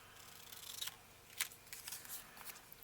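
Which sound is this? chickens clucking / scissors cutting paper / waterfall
scissors cutting paper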